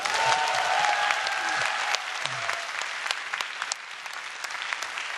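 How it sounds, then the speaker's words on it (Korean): Audience applause at a Korean lecture on healing, a steady clapping crowd sustained throughout at moderate distance. "박수 한번 쳐주세요."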